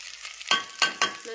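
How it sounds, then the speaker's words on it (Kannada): Onion, potato, brinjal and chillies fry together in oil with a loud, close sizzle. Three sharp stirring clatters cut through it in quick succession. "ಇದೆಲ್ಲ ಉಳ್ಳಾಗಡ್ಡಿ ಆಲೂಗಡ್ಡಿ ಮತ್ತು ಬದನೆಕಾಯಿ ಮೆಣಸಿನ್ಕಾಯಿ ಎಣ್ಣೆ ಒಳಗೆ ಫ್ರೈ ಆಗತ್ತೆ."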